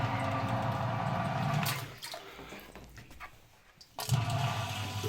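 A laundry room drain gurgles and rushes as water is pumped out, loud and steady at first, then dropping to a thinner trickle before surging back strongly.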